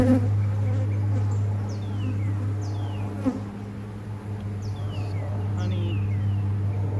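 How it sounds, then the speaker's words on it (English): Honeybees drone in a steady, close hum around an open beehive during a spring inspection, with occasional high bird chirps in the background. "That's a weird ball of bees."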